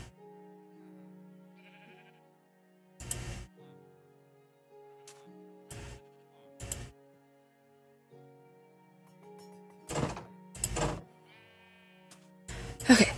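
Sheep bleating in short bursts, several separate calls spaced irregularly, close and fairly loud over a quiet background with a faint steady hum.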